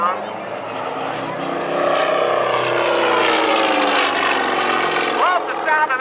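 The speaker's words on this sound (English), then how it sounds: "Love the sound of that engine." A Yak-18T aerobatic plane's 360-horsepower nine-cylinder radial engine drones loudly, rising and swelling as it passes close overhead, then fading slightly; a voice briefly speaks near the end.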